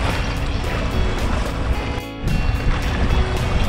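Sailboat under way offshore in an 8 to 10 mph wind with small whitecaps, making about 6 knots: steady loud rush of wind and water against the hull with a brief lull, no talk.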